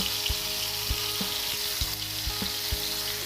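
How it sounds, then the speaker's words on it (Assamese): Tandoori chicken pieces fry in a kadai over low heat, giving a steady close sizzle with a few soft, regularly spaced knocks as the pan is touched. "এয়া অকণ কম জুইত একেবাৰে কম জুইত ভাজি আছোঁ"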